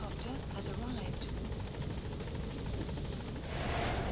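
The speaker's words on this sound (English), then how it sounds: "Support helicopter has arrived." Support helicopter arriving at a landing zone in a video game, a continuous rotor chop and engine roar that swells louder toward the end, with radio-style voices over it.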